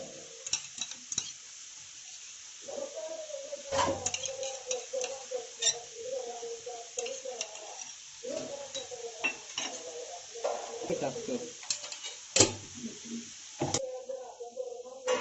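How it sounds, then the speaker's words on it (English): A spoon stirs butter chicken gravy with ginger garlic paste and red chili powder in a pan, scraping and clinking close by amid soft sizzling, with brief talk over it. "Give a good stir to our gravy."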